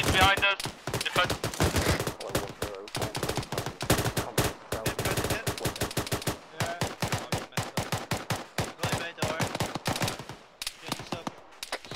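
Dense gunfire in ArmA 3: rapid automatic bursts and single shots crack out almost continuously, loud and close, with brief gaps and voices talking over the shooting.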